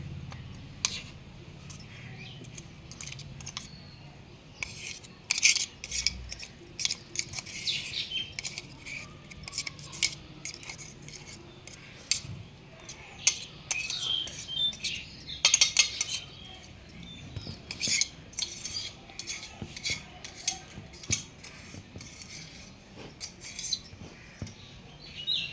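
Chili powder being mixed with coarsely crushed garlic in a metal bowl, with intermittent clinking and scraping of a spoon against the metal in irregular bursts throughout, fairly close and alone.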